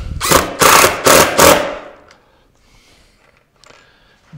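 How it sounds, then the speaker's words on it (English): A power drill driving 1 5/8 inch screws into an oak table gives four loud, close bursts of whirring, then goes quiet with only faint handling noise. "So we're now just putting in 1 5/8 screws."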